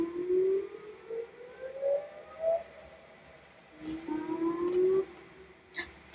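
A civil defense siren wails across a city near the Erie Canal, heard from a sailboat on the water: two slow rising tones swell from a distance over a low background hum, with no talking.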